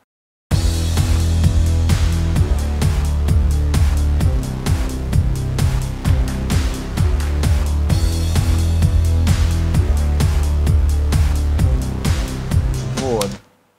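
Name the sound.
mixed rhythm section: kick, bass, snare drum, hi-hat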